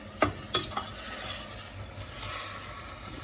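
Onions and seasonings sautéing in a pan for jerk pineapple shrimp, a low, quiet sizzle with a few sharp utensil scrapes and knocks near the start, then gentle frying alone.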